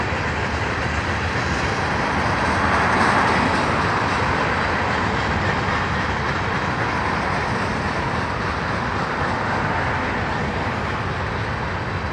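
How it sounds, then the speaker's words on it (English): A long BNSF freight train rumbles steadily past nearby, a continuous heavy roar with a faint rhythmic rattle of wheels on track, with no break throughout. "Pretty cool train."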